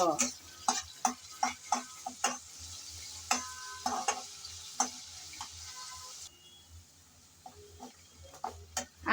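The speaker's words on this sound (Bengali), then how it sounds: "পেঁয়াজ কুচি নেড়ে চেড়ে সামান্য ভেজে নেব" Chopped onions frying in hot oil with bay leaves, stirred with a utensil, giving repeated sharp scraping clicks over a steady low sizzle, close and moderately loud.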